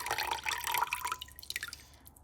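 Water drained off soaked dragon fruit seeds gives a close, quiet run of dripping and trickling splashes that slowly thin out toward the end.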